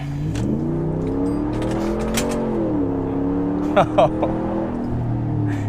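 A very large truck on a test drive accelerates, its engine drone rising and dipping through gear changes, loud and close, with a person talking over it throughout.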